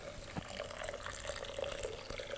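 Water poured in for bajra millet khichdi, a faint, steady trickling splash with small drips, quiet and close, no talking.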